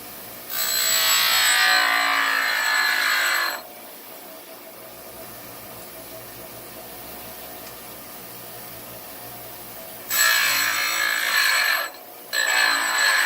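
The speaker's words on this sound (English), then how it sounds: "on the bench grinder. I'm just going to grind on the bottom some of that stuff out." A bench grinder roughly grinding material from the underside of a Seydel Saxony harmonica slide, in two loud, harsh bursts of about three seconds and two seconds separated by a quieter motor hum, with a short break in the second burst.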